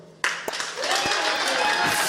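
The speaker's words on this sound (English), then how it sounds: "Before we get started, round of applause." At a stand-up comedy show, applause bursts in abruptly after a brief quiet moment and swells into a full, sustained clatter of hands, with a few voices rising through it.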